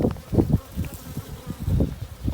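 Honey bees buzzing close by during a hive inspection, an uneven, pulsing drone of several insects circling near the open box.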